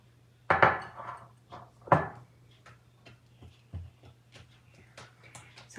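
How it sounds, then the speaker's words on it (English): Fruit dip being mixed in a bowl gives several loud clinks and scrapes of a utensil against the bowl, then softer irregular taps and stirring sounds with a steady low hum underneath. "So I'm just mixing it up real good."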